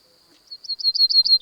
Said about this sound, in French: ça correspond au chant de l'oiseau, donc on va conserver ça